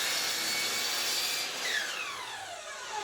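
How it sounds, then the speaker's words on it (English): Saw trimming the bevelled end of a wooden board for a planter box: continuous, loud, rasping cutting noise that eases slightly midway before carrying on, close and alone without talk. "So we're going to just trim the end."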